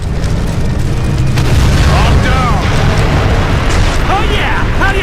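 Rocket launcher explosions pound the giant alien Mothership in Earth Defense Force 2017, a dense, continuous roar of booming blasts with whistling, chirping effects on top and speech mixed in.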